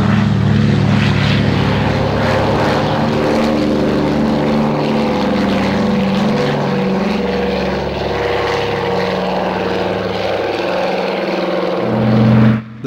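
A Consolidated PBY-5A Catalina flying boat in French naval colours drones loudly and steadily with its propeller engines, a continuous close, rumbling roar throughout.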